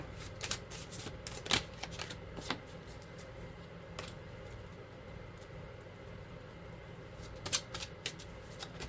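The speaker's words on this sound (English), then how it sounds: "I can't even keep them in the deck to shuffle them." Quiet riffling and flicking of tarot cards being shuffled, with a few sharper bursts of card snaps standing out near the start and near the end.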